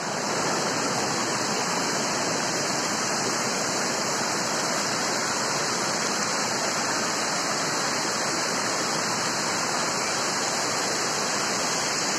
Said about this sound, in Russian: в последний день мы сходили на водопад Шибет. Красивый водопад, классный.